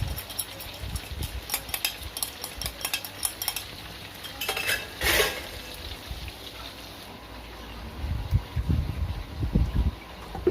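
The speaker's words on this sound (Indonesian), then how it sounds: "saya lanjut cuci piring" Dishes being washed in a home kitchen: cutlery and plates clink and clatter irregularly, with water splashing and scraping sounds, close and moderately loud, with occasional soft background movement.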